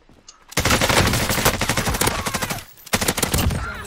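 Rapid automatic weapon fire in Call of Duty Warzone, loud close bursts of rattling shots that pause briefly after about two and a half seconds before another burst resumes.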